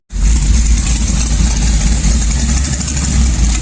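An LS1 V8 idles in gear, a steady loud low rumble with a lumpy pulsing beat and a constant high hiss, running alone without pause for the whole stretch.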